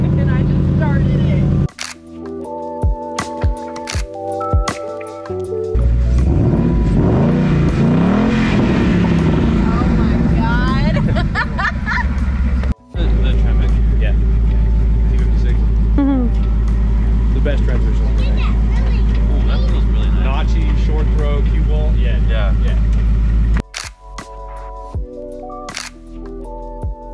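A 2024 Ford Mustang Dark Horse engine starts and idles with a steady low rumble, revving up briefly, with clicks at the start and end.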